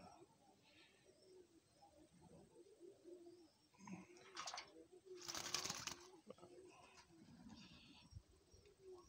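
Blondinet pigeons bathing give soft, low cooing calls close by, with a burst of splashing and wing flutter midway against faint background noise.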